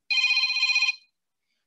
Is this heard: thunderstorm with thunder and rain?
no